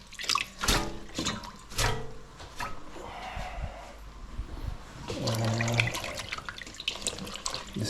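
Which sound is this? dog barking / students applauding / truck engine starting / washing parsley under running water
washing parsley under running water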